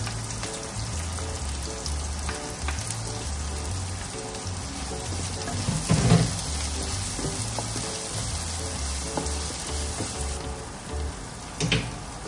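Onion browning in a pan gives a steady, moderate sizzle that runs without a break, with a few louder crackles and utensil touches scattered through it.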